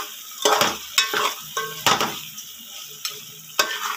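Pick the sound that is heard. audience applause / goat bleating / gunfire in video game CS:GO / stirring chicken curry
stirring chicken curry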